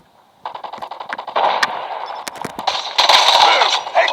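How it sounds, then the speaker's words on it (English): Video game sniper rifle fire during a shotgun, pistol and sniper challenge: sharp sudden gunshot cracks among clanging metallic hits and other game effects, loud and busy over several seconds. "that was a crisp snipe"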